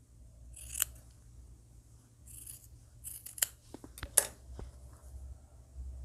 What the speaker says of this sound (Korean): 시접을 좀 잘라내셔도 돼요